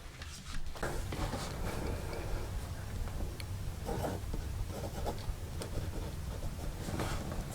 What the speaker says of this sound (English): So I'm writing over the camera, so it's not a normal writing environment.